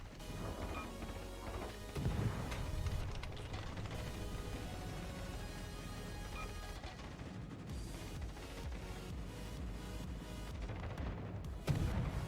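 Rockets launch and burst in a video game, a steady barrage of booming blasts and crashing impacts over continuous game noise, with a sharp louder hit near the end.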